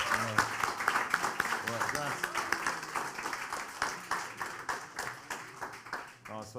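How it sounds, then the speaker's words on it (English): Applause from an audience at a Digit Music event, a dense rapid clatter of many hands clapping that runs steadily for several seconds and fades at the end. "Can we have a round of applause?"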